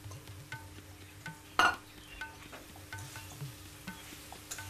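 Vegetables with carrots and paneer being stirred in a hot pan, giving soft scraping spoon strokes over a faint low sizzle, with one sharper clatter near the middle and no voices.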